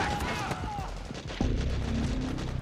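Suppressing gunfire in Metal Gear Solid 4: Guns of the Patriots, with sharp shots and a thump amid busy game noise, mixed with shouted voices.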